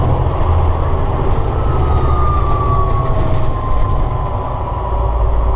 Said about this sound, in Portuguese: freio motor ligado